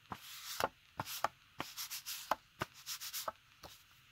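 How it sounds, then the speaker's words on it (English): Gold is rubbed over raised embossing on paper in a series of short, soft scuffing strokes, some quick and paired and others spaced apart, close up and quiet, with no talking. "I'm just going to take this and rub it over the raised portion of the embossing."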